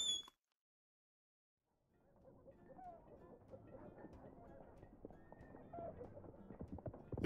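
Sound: horse hooves clip-clopping in video game Repella Fella

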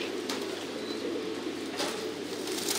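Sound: pigeons cooing in breeding cages

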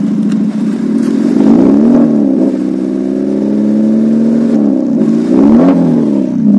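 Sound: modified Maruti Suzuki Swift exhaust sound

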